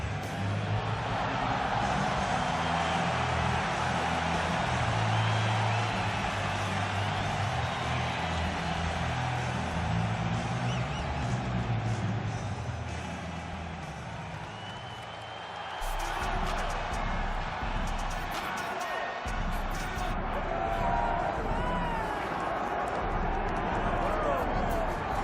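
Arena crowd at a UFC event roars steadily as Nate Diaz heads out for his walk, a dense, loud wall of cheering that dips briefly and swells again, with commentators talking over it.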